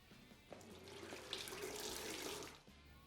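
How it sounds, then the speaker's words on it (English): Coolant pouring from a disconnected bottom radiator hose on a Polaris UTV into a drain pan, a steady close splashing stream that swells and then tapers off after a few seconds. "This will allow us to drain the coolant."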